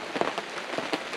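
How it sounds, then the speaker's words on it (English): Rain patters onto a gazebo roof at a rainy campsite, a steady soft wash of drops with a few louder taps, heard alone and close. "it's the not so joyfulness of camping when it's raining"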